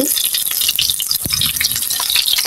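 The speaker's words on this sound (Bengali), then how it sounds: "এটা আমি এপিট উপিট করে ভেজে নিচ্ছি।" A stuffed bread snack fries in a pan and is flipped from side to side: a steady bright hiss of oil sizzling, broken by a few soft rattles and knocks as it is turned, close and fairly loud.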